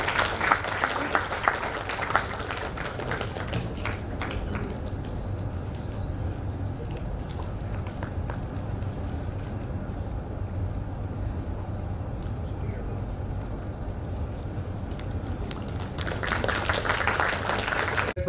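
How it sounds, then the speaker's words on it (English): Audience applause in a conference session hall: dense, fairly quiet clapping that is strongest at the opening, settles into a softer wash through the middle, then swells again near the end. "Big round of applause for it."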